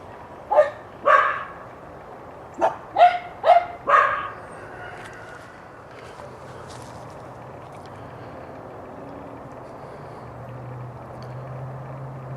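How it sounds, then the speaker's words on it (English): Dogs bark outdoors, six or seven sharp barks in a quick cluster early on, moderately close, then quiet with a low hum. "Sorry about the barking dogs."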